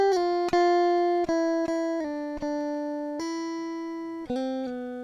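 A dry electric guitar with no effects plays a slow sequence of single plucked notes and short chords, each attack sharp and each note sustaining cleanly until the next, close and unadorned.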